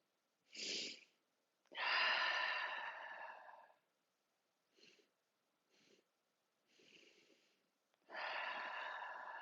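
Yoga breathing through the nose, with a series of sharp sniffs and long, breathy exhales separated by silences, heard close and alone.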